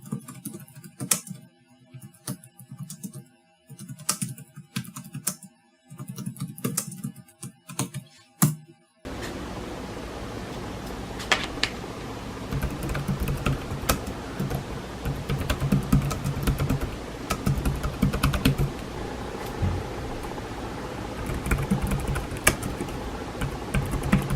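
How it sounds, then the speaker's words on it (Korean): Rapid typing on a mini Bluetooth keyboard with rubber-dome-like keys, soft muffled key taps in quick irregular bursts, close up, continuing throughout with brief pauses. "혹시 모르니까 제가 타이핑을 소리를 한번 들려보도록 하겠습니다."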